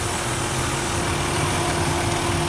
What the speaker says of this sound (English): V6 engine, absolutely purring like brand new.